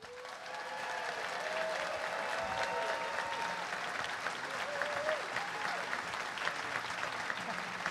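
Audience applauding a panel at a millionaires' forum: a soft, distant round of clapping that rises quickly and holds steady, with scattered voices and cheers mixed in.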